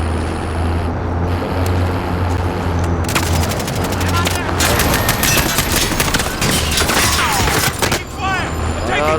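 Call of Duty Warzone gameplay with dense rapid gunfire, bursts of automatic shots and sharp cracks over a constant low rumble, loud and near, with voices in the game mixed in.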